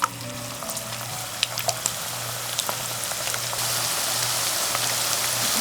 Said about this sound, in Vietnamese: Đợi dầu nóng rồi mình cho thịt gà vào chiên giòn ha.